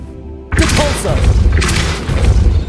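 Repulso spell blast in Hogwarts Legacy, a sudden loud whooshing boom that starts after a quiet half-second and rolls on with rumbling, crashing debris.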